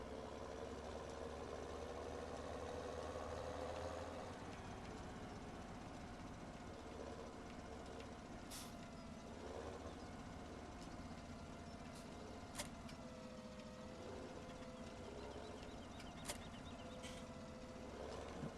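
Tractor engine in Farming Simulator 17 idling steadily throughout, a continuous low mechanical drone with a slight shift in tone after a few seconds and occasional faint clicks.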